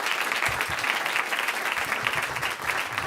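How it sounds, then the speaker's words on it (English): Audience applause at a talk on sober-curious living and Dry January, a full, continuous burst of clapping from a large crowd with no voices over it. "Please give a round of applause for everybody."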